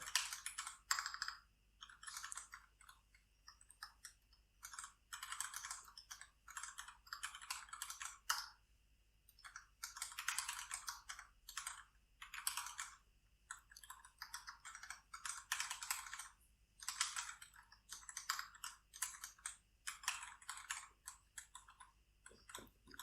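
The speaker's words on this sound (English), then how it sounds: "So here I'm going to type out a basic HTML file." Typing on a computer keyboard, close and fairly quiet, with irregular runs of rapid key clicks and brief pauses, no voices.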